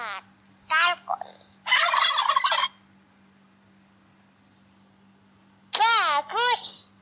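A turkey's gobble from a children's educational animal game sounds as one loud burst near the middle. Cheerful child-like voices speak before and after it against a faint background hum.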